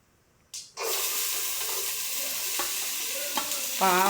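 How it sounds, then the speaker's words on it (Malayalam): A burst of sizzling breaks out as bitter gourd and ginger paste hit a hot pan, then a continuous close sizzle runs under the scrape and clatter of stirring. "പാവയ്ക്കയും ഈ പറഞ്ഞ പോലത്തെ തന്നെ ഈ ഇഞ്ചി ഇതെല്ലാം കൂടി ചേർത്ത് വെച്ച അരപ്പെല്ലാം കൂടെ ഞാൻ ഇവിടെ ചേർത്ത് ഇളക്കി കൊടുക്കുകയാണ്"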